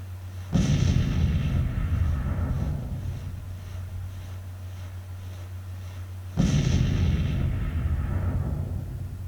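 Two heavy artillery blasts in a Civil War battle game, Nashville, each a sudden deep boom rolling into a long fading rumble, the second arriving about six seconds after the first.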